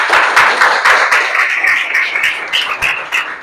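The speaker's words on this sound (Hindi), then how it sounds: "ताली।" A school event audience clapping for a student, close and loud rhythmic applause with distinct repeated claps over several seconds.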